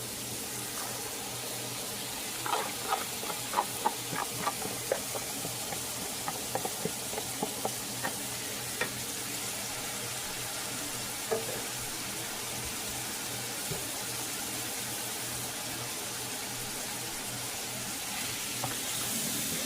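Chopped celery, green peppers and onions sizzle steadily in a hot pan for a spaghetti sauce, a constant hiss with scattered crackles and pops clustering early, then settling into an even fry.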